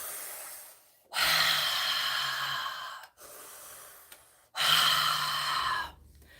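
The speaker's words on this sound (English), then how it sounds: "Breathe in a little bit more. Exhale a little bit more." Deep, slow breaths with a long drawn-in inhale and a full exhale, repeated twice, close and clear with no talking.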